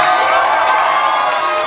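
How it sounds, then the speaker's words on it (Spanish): An audience cheers and applauds loudly, a dense, sustained crowd roar with raised voices that holds steady from start to finish, close and full. "Me están aplaudiendo por morder una empanada"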